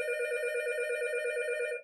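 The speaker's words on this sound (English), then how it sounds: "it generates a ring for a couple of seconds just as a test" A KS0835F telephone subscriber line module drives a test ring, producing a steady, bright electronic bell tone for nearly two seconds that cuts off abruptly, close and clean, with no speech.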